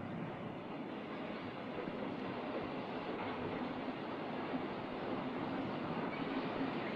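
A train of steel-carrying railway wagons rolls steadily past at a moderate distance, a continuous low rumble on the rails, fairly faint and even throughout.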